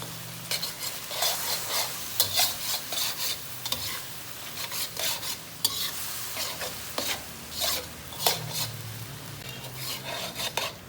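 Chicken seasoned with black pepper and cumin being stir-fried in a pan, a close sizzle broken by repeated rhythmic scraping strokes of a spatula.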